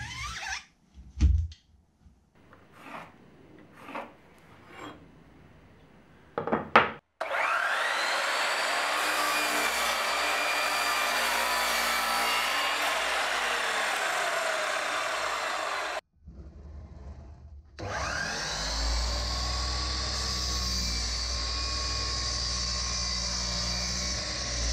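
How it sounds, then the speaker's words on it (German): A table saw cuts scrap wood with old drill holes and chamfered edges into cabinet side panels: a few knocks and handling sounds, then two long, loud, steady blade-cutting runs separated by a brief pause. "An der Tischkreissäge entstehen so dann schnell die beiden Seitenwände."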